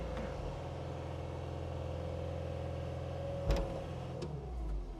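A machine in a 20-year-old CEO's equipment fleet raises its arms to full height, about 12 feet, with a steady engine drone and a hydraulic whine, punctuated by a clunk near the end.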